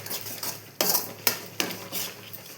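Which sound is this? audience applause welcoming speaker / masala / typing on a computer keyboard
masala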